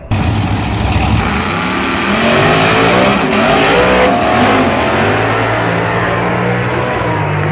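Race car engines roar and rev hard at a car show race event, a loud continuous mass of accelerating engines with rising and falling pitch throughout, close and dense, with no clear gaps.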